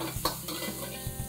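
Ginger garlic paste frying in oil for badam kodi charu, a quiet sizzle with a couple of soft spoon or pan knocks over just over a second.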